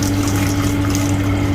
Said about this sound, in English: then open the valve to fill up the reservoir until 55 cm